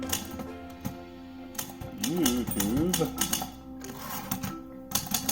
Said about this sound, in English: I went a little bit longer on that typing example just to, I guess really just enjoy it